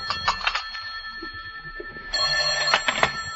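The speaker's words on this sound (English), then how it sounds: "the phone interrupted my first cup of coffee the next morning at 10:30" An old-style telephone bell rings in a radio drama, two bursts of shrill ringing separated by a short quiet gap, clear and close with no voices.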